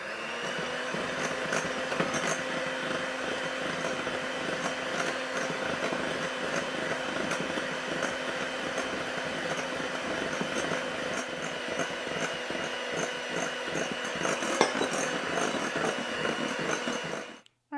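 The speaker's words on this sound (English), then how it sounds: "you just want to mix the eggs until they're lemon colored and slightly thick" Electric mixer beating eggs for an old-fashioned coffee cake batter, a steady close whirring drone with a constant motor tone that runs unbroken for the whole stretch, no voices.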